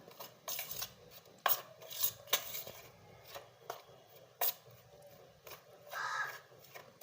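A spoon works kapnya dough, flour moistened with oil, in a bowl, giving irregular crisp scrapes and light clinks at close range with quiet gaps between strokes; no one speaks.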